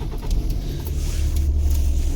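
A tempo delivery vehicle drives past at night on the road near a temple, a deep, steady engine rumble that grows slightly louder and fuller as it nears, with no talk over it.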